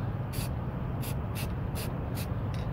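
Six short hissing bursts from a Krylon spray paint can, evenly spaced, cut through a steady low background hum; each burst is brief and close.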